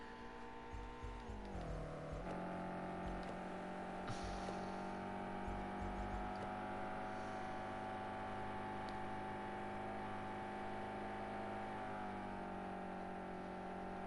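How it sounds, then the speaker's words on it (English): A race car engine at the Nürburgring holds a steady, droning tone, dipping in pitch once before settling into a sustained roar, heard from some distance. "Lovely sounding car that is there, brilliantly sounding."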